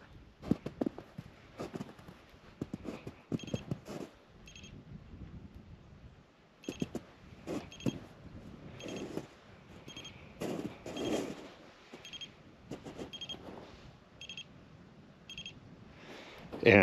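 An electric fence voltage tester beeps in quick, repeated bursts along a horse pasture fence, coming in irregular clusters with pauses between them, faint and close, mixed with soft handling noise.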